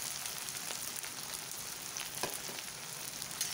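Three finely chopped onions fry with cumin seeds in a hot pan, giving a steady close sizzle with scattered small crackles and pops, with no talking.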